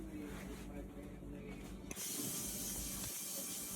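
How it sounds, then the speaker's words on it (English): A burst of hissing from a spray bottle of cleaner starts partway through and continues steadily, close and fairly loud, after a stretch of quieter background noise in a hotel room. "Gotta spray light switches, handles."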